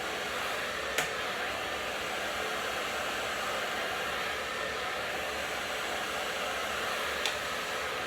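A hair dryer blows in a steady, even whoosh during a long-hair volume blow-dry, running continuously at close range with two faint clicks.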